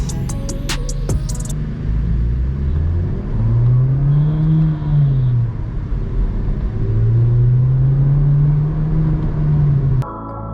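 A Skoda Kushaq 1.5 TSI petrol car starts up close by and drives off, its engine rising and falling in pitch twice over a steady low rumble.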